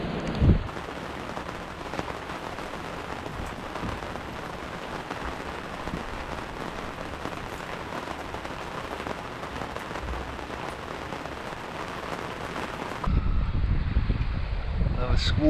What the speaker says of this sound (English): It's only 7:30 in the morning and it's already pouring down.